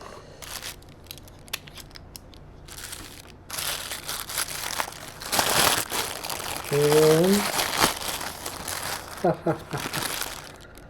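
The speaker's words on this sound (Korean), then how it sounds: "이제 한번 개봉을 해보겠습니다. 대체 뭐가 들었는지." A plastic mail package from an unknown overseas sender is cut open with scissors, giving snips, loud crinkling and crumpling of plastic up close, with a voice speaking briefly in between.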